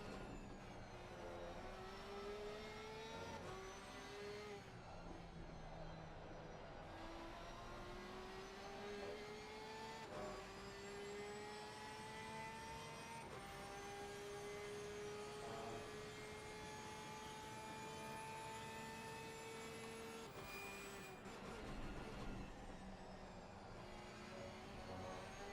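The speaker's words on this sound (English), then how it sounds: "With the helmet cam to get the full immersion and sound of the Porsche driven by David Dorre." Porsche race car engine in a GT3 racing game at the Nürburgring, heard from the helmet cam: a continuous high whine that rises and falls through the gears for the whole stretch, faint and alone.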